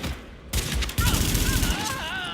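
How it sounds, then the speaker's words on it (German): Gunfire in The Division, shots fired through windows, with a dense burst starting after a brief quiet and continuing loudly under overlapping game voices. "Auch durch die Fenster kannst du schießen."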